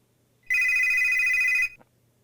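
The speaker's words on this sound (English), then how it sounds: "Huckle's terminal chirps with a notification" Terminal notification chirp from the Live-A-Hero video game: a single sustained, bright electronic ringing tone lasting about a second, loud and clear with no talk, ending in a brief click.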